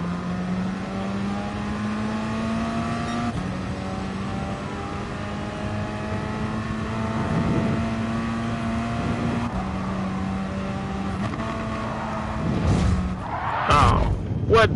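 Race car engines in the video game Gran Turismo Sport drone steadily with rising, shifting pitch as cars overtake on an FIA GT race, a close continuous whine ending in a short burst of harsher, louder noise.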